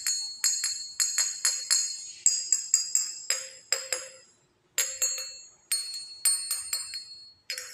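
Ceramic pottery recovered from a Qing dynasty shipwreck being tapped, giving bright, ringing clinks in irregular bursts of several quick taps with short pauses, close and clear with no talking.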